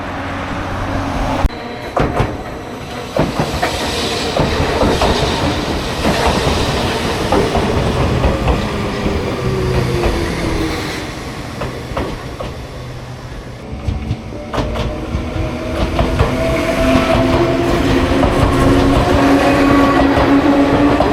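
Train passing on rails in Japan, a steady loud rolling rumble with rhythmic clacks and metallic squeals that swell and hold for the whole stretch, no talk heard.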